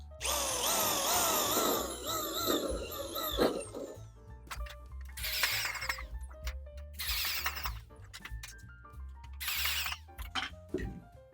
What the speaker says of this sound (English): drill it out, not the same hole size as your rivet nut